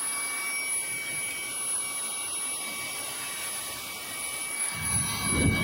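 Fanttik Slim V10 APEX cordless handheld car vacuum running in blower mode, a steady whooshing airflow with a high motor whine, growing louder near the end.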